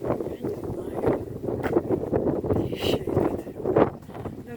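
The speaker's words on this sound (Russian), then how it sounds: "Видишь, какой ветрище." A strong wind blows outdoors in steady, rumbling gusts that buffet the microphone and fill the clip with continuous roaring noise.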